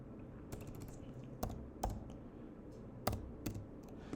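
Keystrokes on a computer keyboard entering text into an Excel spreadsheet, a handful of separate clicks spaced irregularly over a low steady room hum with no talking.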